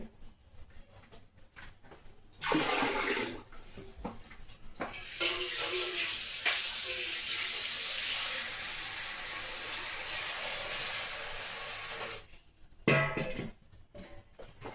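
Amaranth greens are washed under a running tap into a vessel, with a steady close stream of water flowing for most of the stretch, framed by quieter handling sounds at the start and end.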